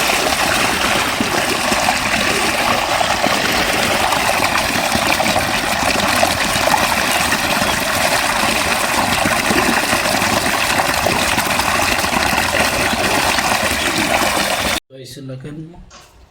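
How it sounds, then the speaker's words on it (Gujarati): Tap water runs steadily while washing at a village home, a loud continuous rush of flowing water that cuts off abruptly near the end. "સીધું હોય મૂકી પાણી ચાલુ હોય ને ધોઈ દેવાનું"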